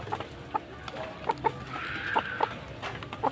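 A hen clucking nearby in a farmyard, short repeated clucks spaced irregularly with one drawn-out call in the middle, over faint background noise.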